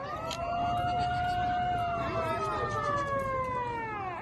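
Emergency alarm siren wailing at a container port during a disaster drill, a rising and falling tone sounding steadily and fairly far off, with faint background noise beneath.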